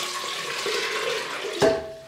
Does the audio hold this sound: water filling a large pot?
yes